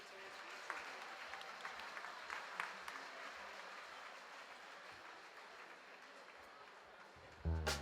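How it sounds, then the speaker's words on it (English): Audience applause at an awards ceremony, a steady wash of many hands clapping at moderate distance, with scattered sharper claps and a louder burst near the end. "let's give them another round of applause"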